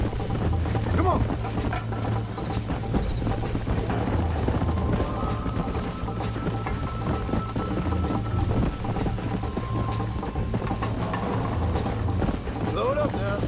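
In the Red Dead Redemption video game, a horse gallops with a steady, rhythmic clip-clop of hooves beneath game dialogue and ambient noise.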